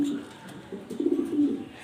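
An imported black male pigeon coos close by in soft, throaty, repeated low calls that swell and fade in short bursts, with faint background noise.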